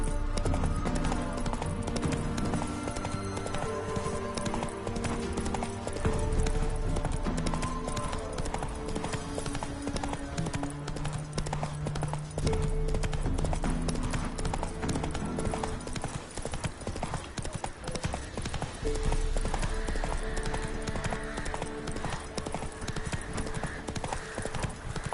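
The horse Roach gallops in The Witcher 3, with rapid rhythmic hoofbeats pounding continuously for about twenty-five seconds over a game music score.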